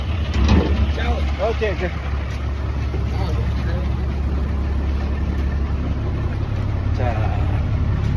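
A bus engine in Sri Lanka rumbles steadily at idle, a loud, close, low drone that holds through the whole stretch while someone speaks briefly over it near the start and again at the end.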